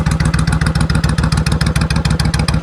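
A customized 2002 Suzuki Intruder VS1400 V-twin motorcycle idles close up, its loud, deep engine beating in a steady, lumpy rhythm with mechanical clatter throughout.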